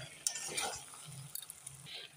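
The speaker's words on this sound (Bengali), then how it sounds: "ঢাকাটা না দিয়ে এখন আর একটু নেড়ে কষিয়ে নেব" Chicken being stir-fried in a pan with ground spices, a soft sizzle with a few scraping spoon strokes at close range, fairly quiet throughout.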